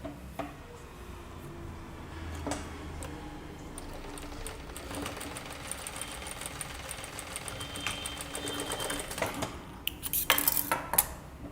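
Sewing machine stitching kurta pieces together, a steady run of rapid mechanical clatter with brief pauses and a louder burst of clicking near the end.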